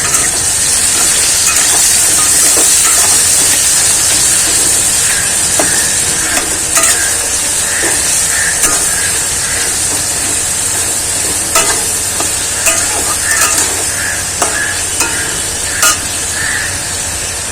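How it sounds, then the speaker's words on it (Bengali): Onions fry in a pan as the masala for a chicken curry begins, a loud continuous sizzle broken by repeated spatula scrapes and clacks against the pan. "পেঁয়াজটাকে লাল লাল করে ভেজে নেব"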